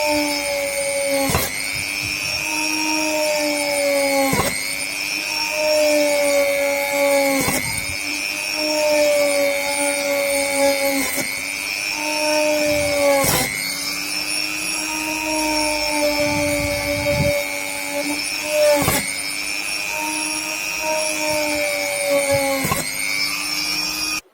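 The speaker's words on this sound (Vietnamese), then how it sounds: "Cứ thế khoan tiếp các bạn nhé." An electric drill bores a ring of holes one after another during LED lamp repair work, its loud, even whine running continuously and broken by regular short dips roughly every three seconds as each hole is finished and the next begins.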